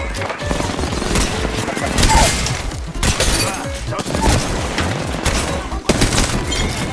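Dense, loud gunfire and blasts fill the clip without pause, with a voice talking excitedly over the shooting.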